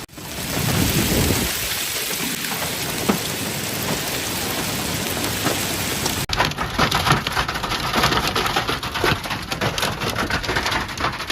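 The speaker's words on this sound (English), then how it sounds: "Heavy rain accompanied by lightning, hail, and gusts of wind" Heavy rain pours steadily with rumbling thunder during a hail storm in Hachioji, Tokyo, sounding loud and dense. Midway the sound turns sharper and more crackling as hail and rain hit a surface up close.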